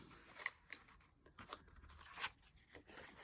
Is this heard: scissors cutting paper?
yes